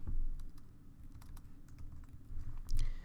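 Typing on a computer keyboard, with a run of soft, irregular key clicks over a low room hum and a few sharper taps near the end. Nobody speaks.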